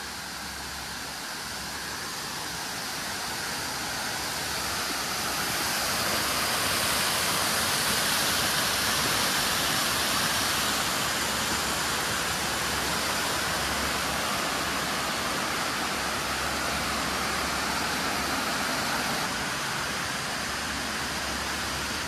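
A waterfall in a park roars steadily and close at hand, a dense, constant rush of falling water that holds at full strength for more than twenty seconds with no talking.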